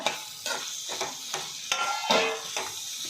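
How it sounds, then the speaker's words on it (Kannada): Chopped tomato frying with mutton keema masala, with rhythmic stirring strokes repeating about every half second over a moderate, close sizzle. "ಇದೆಲ್ಲ ಸ್ವಲ್ಪ ಚೆನ್ನಾಗಿ ಫ್ರೈ ಮಾಡ್ಕೊಳ್ಳೋಣ"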